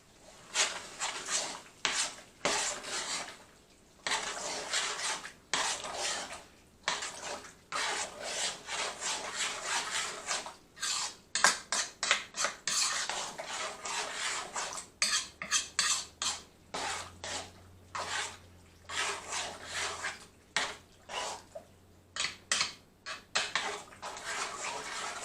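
A spoon stirs alligator sauce piquant in a pot, a long run of rough, rhythmic scraping and rubbing strokes against the pot with short pauses between bursts, close and fairly quiet, no talking.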